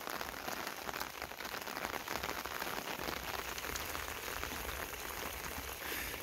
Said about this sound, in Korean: 연못에 비가 오고 있어요.